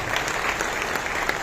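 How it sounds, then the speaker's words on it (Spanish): Warm, steady applause rings out for a senator attending an architecture conference, a full hall of hands clapping continuously and fairly loud with no speech over it. "Ángel García Yáñez, que le pido un fuerte aplauso."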